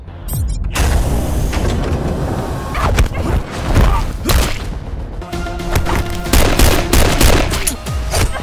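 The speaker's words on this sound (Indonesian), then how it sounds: "membuat keadaan menjadi kacau dan membuat baku tembak tak bisa dihindarkan" Gunfire in an action film shootout: dense, rapid bursts of shots and booms crowd a loud, busy soundtrack throughout.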